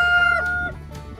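A six-week-old chick with a crooked foot gives a short, close, clear clucking call, a tonal squawk that trails off quickly.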